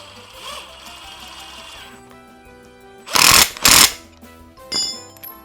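A cheap Makita-style impact wrench tightening a 19 mm bolt hammers in two loud rattling bursts after a quieter stretch of background hum, followed by a shorter final burst.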